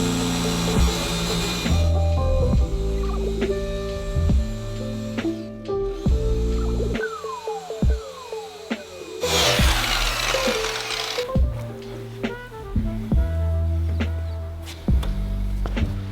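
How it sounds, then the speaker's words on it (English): A polisher buffs old paint on a Honda Civic, a whirring motor that repeatedly spins up and winds down in bursts with pauses between passes, fairly close. "that is quite literally 20 seconds of buffing"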